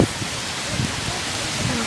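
Heavy rain pours steadily during a severe thunderstorm in La Crosse, Wisconsin, a dense, even hiss with no breaks.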